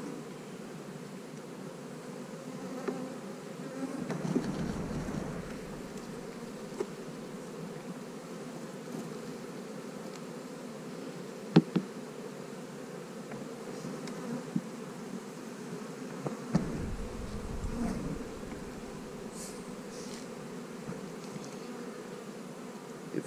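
Honey bees buzzing around hive frames during a split, with brood about to hatch and queen cells present: a steady, close, low droning hum that fills the whole stretch, with a few faint clicks and knocks over it.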